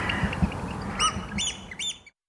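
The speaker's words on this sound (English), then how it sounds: "the Eurasian oystercatcher is one of the most recognizable wading birds of the Northern Hemisphere, with its bold black and white plumage, fiery red bill, and piercing call." A Eurasian oystercatcher, a black-and-white coastal wading bird with a red bill, gives three shrill, piercing calls in quick succession over a steady wash of background noise.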